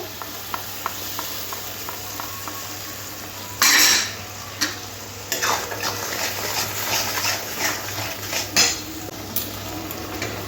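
Masala is stirred into a rui fish curry gravy in a pan, with a low steady hum under scattered scraping clinks of a spoon against metal and a soft bubbling sizzle, close up and with no talking.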